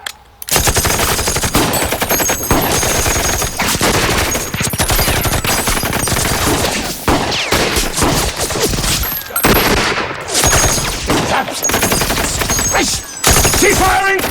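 A loud, sustained fusillade of machine-gun and rifle fire from a wartime battle scene in a film, rapid bursts crackling almost continuously for the whole stretch with only brief pauses.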